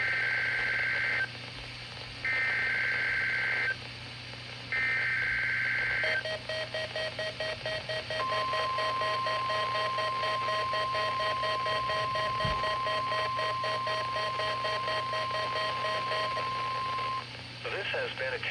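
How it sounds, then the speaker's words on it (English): NOAA weather radio alert test: three bursts of shrill data-burst tones followed by a long steady attention tone, loud and close over a broadcast hum, without talk. "This has been a test of the NOAA radio tone and same alert systems"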